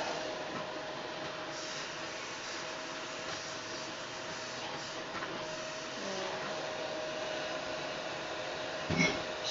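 A household vacuum cleaner runs steadily at a constant drone throughout, moderately near, with a brief clunk near the end.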